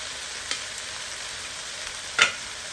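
Food sizzling and frying in a pan while a chicken dinner cooks, a soft steady crackle with one brief louder hiss burst near the end and no talking.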